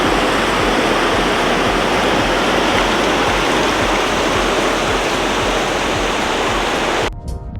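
Lower Yosemite Falls roars as a loud, steady broadband wash of falling water, heard close and continuous, cutting off abruptly just before the end.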